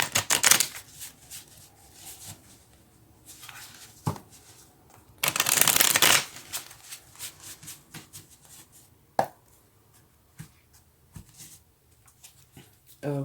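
Tarot cards are shuffled in bursts of riffling and slapping, with a long loud riffle in the middle and scattered taps around it, close by and with no talk.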